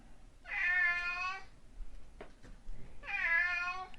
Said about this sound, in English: You wanted a cat?